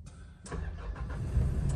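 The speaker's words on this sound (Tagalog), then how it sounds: "So once mawala na yung airbag sensor, nag-check engine na yung kotse, tsaka siya mag-i-start." A Nissan Navara pickup fitted with a keyless push-start conversion cranks and catches, the engine noise building and settling into a steady run over a couple of seconds, fairly close and moderately loud.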